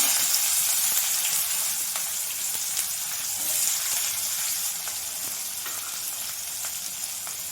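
Chopped onion hisses loudly in hot oil with bay leaf, dried red chilli and whole cumin, a dense continuous sizzle that eases slightly over several seconds, with faint stirring scrapes and no talking.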